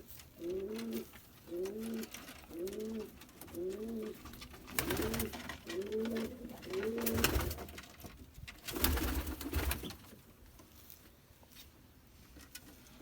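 A pigeon with foot fungus coos repeatedly in a steady rhythm, about seven rolling coos close by, mixed with bursts of rustling and wing or handling noise as ointment is applied.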